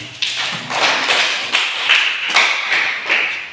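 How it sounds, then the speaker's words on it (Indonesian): An audience at a teacher-training session bursts into applause for a participant's answer, a steady run of claps for a few seconds, fairly close and filling the room. "Kita berikan aplaus untuk jawabannya."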